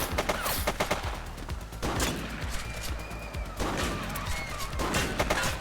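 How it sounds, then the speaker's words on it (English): Dense, rapid gunfire from a gang shootout in The Precinct, a police video game, with bursts of shots cracking continuously and loudly throughout, no voices. "Central shots fired."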